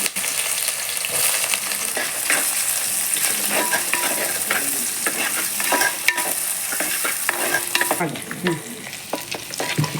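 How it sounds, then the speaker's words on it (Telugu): Thinly sliced onions fry with bay leaf, cumin and cardamom in a pot for prawn biryani, giving a continuous loud sizzle broken by frequent spatula scrapes and stirs, close up and without voices. "చిన్న బిర్యానీ ఆకు కొద్దిగా జీలకర్ర వేసుకొని అందులో సన్నగా కట్ చేసుకున్న ఉల్లిపాయలు వేసి"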